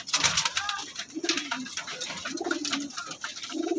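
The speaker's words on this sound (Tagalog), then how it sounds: "So yan yung mga ibon natin, nagsisipag kainan." Soft, low pigeon coos repeat in short phrases over a busy background of flapping, shuffling and scattered chirps, with many birds close by.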